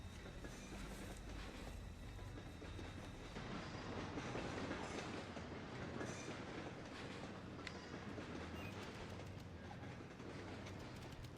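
A train in the video game Black The Fall rolls steadily along with a continuous rumble and rhythmic clickety-clack of wheels, fairly close, with no voices.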